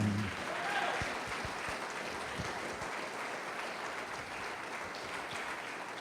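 A church congregation claps steadily and loudly, sustained applause filling the whole stretch without letup.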